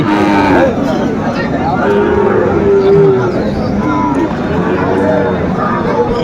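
Sahiwal cattle lowing amid a busy crowd at a Comilla cattle market, with drawn-out moos rising over steady background chatter and market noise.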